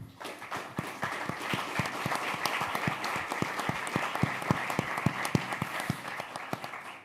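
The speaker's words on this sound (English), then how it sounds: "a huge round of applause for my guest here" Steady applause from an audience, many hands clapping together at an even pace throughout, full and sustained without a break.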